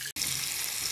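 A kitchen or bathroom tap runs steadily, a bright continuous hiss of water close by, interrupted once by a brief cut near the start.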